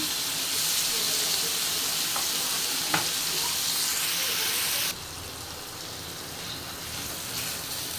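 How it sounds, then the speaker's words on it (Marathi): Surmai (kingfish) pieces frying in hot oil in a pan, a steady loud sizzle with a brief utensil tap near three seconds; the sizzle drops to a softer level partway through and continues. "बाकीचे मी फ्राय करून घेणार आहे"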